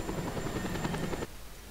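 Helicopter rotor and engine from the Just Cause 2 video game, a steady dense whir that plays loudly for about a second before cutting off abruptly to quieter background noise.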